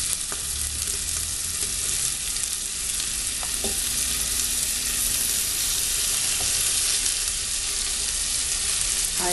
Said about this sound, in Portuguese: eu vou esperar dar uma fritadinha nessa cebola